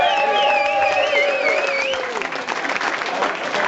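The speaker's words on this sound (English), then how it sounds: "A round of applause for David and Andy and Ben as well." Audience applause and cheering after an outdoor stunt display, loud and sustained throughout with whistles and shouts rising over the clapping.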